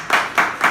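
Three broad bursts of hand clapping in quick succession, close and fairly loud, marking applause for the sales team during a retail training session.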